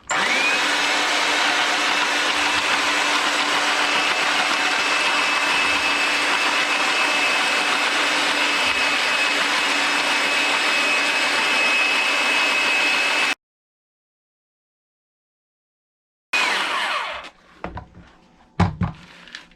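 An electric nut chopper grinds nuts with a loud, steady whirring motor drone for about thirteen seconds, then stops dead; after a pause, brief clattering and handling sounds follow.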